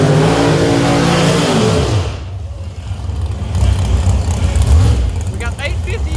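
Roadster-class drag cars at a nostalgia drag race roar loud and close, one engine note falling away before a deep rumbling launch swells again, with an announcer's voice running over the noise.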